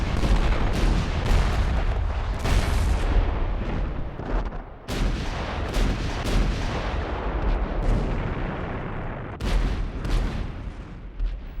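Heavy cannon and artillery fire from the 1915 Dardanelles naval battle, with repeated loud booming blasts rolling into one another in a dense, continuous barrage, and sharper reports near 5 and 9.5 seconds.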